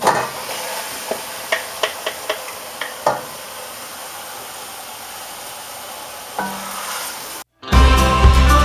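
Beef mince and sausage meat fry in a pan under a steady hiss of sizzling, with a run of sharp utensil taps and scrapes early on as the meat is stirred and broken up, then a brief cut to a different loud sound at the end.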